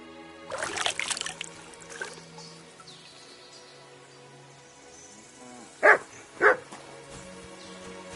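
A dog in the Kingdom Come: Deliverance II video game gives two sharp, loud barks close by, about half a second apart, after a softer stretch of muffled ambient game sound and a brief earlier rustle.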